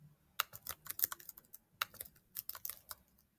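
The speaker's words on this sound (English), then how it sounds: "you might have to type in here just to advance it" Clicky computer keyboard being typed on in bursts of quick, close keystrokes with brief gaps, alone without any talk.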